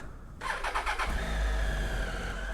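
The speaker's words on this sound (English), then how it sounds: "Let's roll on the lemons with new tires." A car starts up and begins rolling over lemons on new tires, its engine catching abruptly, then settling into a steady mid-pitched running drone at close range, with no talking.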